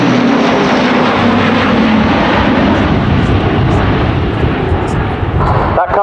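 Airbus A400M Atlas military transport flying a display and pulling up steeply, a loud continuous broadband engine and propeller roar that fills the scene, with a louder burst near the end.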